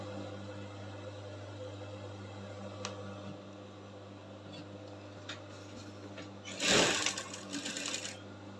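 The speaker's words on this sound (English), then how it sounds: "So I'll just take off my pin and go ahead to stitch." Stitching a shift gown with back loops, a sewing machine gives a low steady hum with faint ticks, followed near the end by a louder, brief burst of rustling and handling noise.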